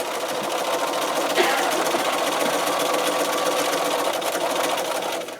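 A sewing machine runs continuously, top stitching a fabric lanyard keychain card holder, with a steady close mechanical whir and rapid needle rhythm and a brief clunk early on.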